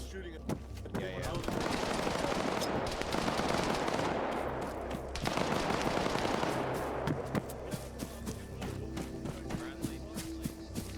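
Sustained automatic gunfire from a building in a war video game, dense overlapping bursts and rattling shots filling the whole stretch, with a brief lull midway before the firing resumes, voices talking underneath.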